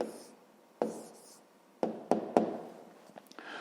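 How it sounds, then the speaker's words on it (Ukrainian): Pen strokes scratching across paper while writing an answer to a fifth-grade triangle perimeter exercise, a few short bursts separated by pauses, close and fairly quiet, with no talking. "зараз записуємо тоді відповідь, пишемо відповідь."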